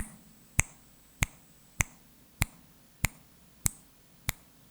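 Seven sharp finger snaps at an even, slow pulse of about one every 0.6 seconds, close and crisp over a quiet room background, marking counts during a guided breathing meditation.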